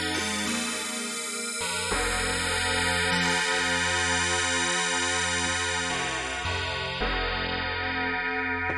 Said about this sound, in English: for instance, this typical wavetable PPG-alike sounds like